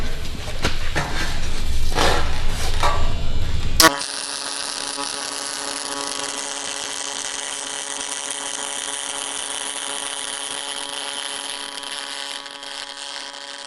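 A Millermatic 255 MIG welder set to pulse mode lays a bead, giving a steady, close, even buzzing hiss that begins after a few seconds of louder, rougher noise and holds to the end.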